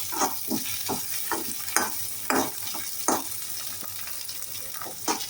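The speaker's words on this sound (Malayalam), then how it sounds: "എന്നിട്ട് നമ്മൾ വീണ്ടും നമ്മൾ സ്പൂൺ കൊണ്ട് നേരത്തെ പോലെ നന്നായിട്ട് ഇളക്കുക" A spoon stirs egg bhurji with curry leaves in a frying pan over a high flame. Repeated scraping strokes come at an irregular rhythm over a steady sizzle, close and clear, with no talking.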